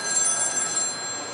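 A phone ringing with a bright, high electronic tone, close by and brief.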